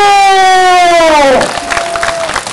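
Crowd applause at a singing-beggar (pumba) street performance during the Chunhyang Festival in Namwon, Korea: a sliding whistle-like tone gives way to a dense wash of clapping that runs steadily for about a second.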